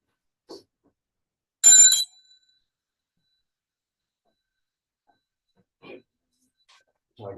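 A single bright bell rings once during a bowing ceremony at a Buddhist temple, clear and brief against near silence, followed later by faint shuffling and a soft voice.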